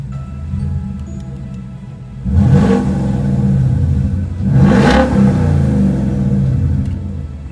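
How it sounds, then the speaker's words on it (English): A Ford Mustang engine revs twice with its exhaust set to quiet mode, two loud rising-and-falling surges over a steady low idle rumble with a faint ticking, close by and with no talk. "I have put the exhaust in quiet mode just so you can hear the engine as well."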